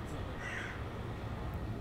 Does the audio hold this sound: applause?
no